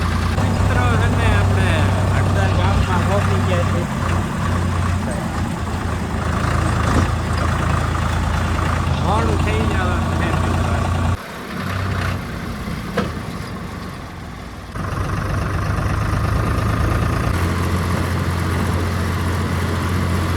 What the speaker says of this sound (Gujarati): ચાલો ફાઇનલી મિત્રો ટ્રેક્ટર ચાલુ થઈ ગયું